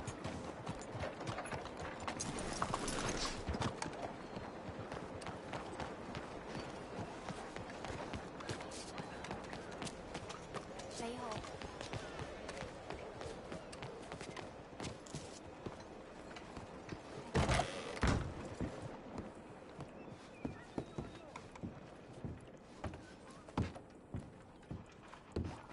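In Red Dead Redemption 2, a horse's hooves clip-clop in an uneven gait at moderate distance, mixed with tack rattle and occasional louder thumps, alongside other game sounds.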